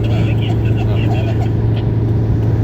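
A caravan of vans and pickup trucks on a tourism convoy through 20 provinces rolls past in a steady, loud engine drone, with someone talking over the traffic noise.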